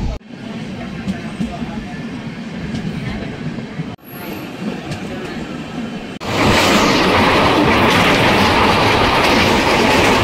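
Inside a moving train, a continuous rumble and rail clatter carries on, briefly dips, then swells much louder and denser as the carriage speeds along.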